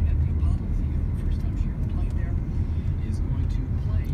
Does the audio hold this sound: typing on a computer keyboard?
no